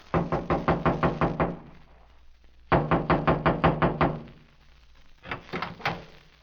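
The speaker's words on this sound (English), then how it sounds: "I walked through the clearing and knocked on the door." Two bursts of rapid knocking on a wooden door, about eight to ten sharp raps each, followed by a shorter third burst of knocks.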